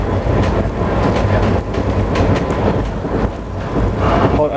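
A passenger train runs at high speed, roughly 110 to 115 km/h, producing a loud, continuous rumbling roar with rhythmic clatter, heard steadily from on board.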